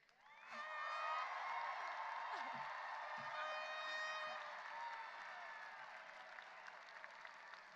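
Graduates of the Mason High School class of 2022 cheer and whoop as they turn their tassels at commencement, a big sustained roar of shouts, whistles and applause that swells quickly and slowly tapers.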